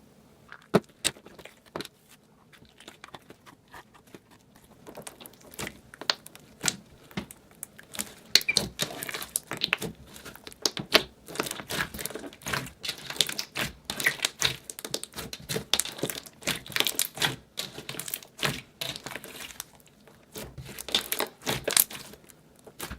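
Clear slime with rainbow layers is squished and folded by hand, giving irregular crackling pops and clicks that come in dense bursts, faint at first and then louder.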